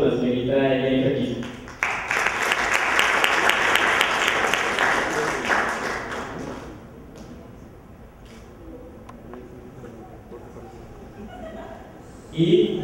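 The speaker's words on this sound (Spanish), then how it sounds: "un par de aplausos para la señorita Elena Kiss" Audience applause for the winner of a citizen debate competition fills the opening seconds, a dense burst of clapping that fades into quieter room sound. A voice speaks briefly near the end.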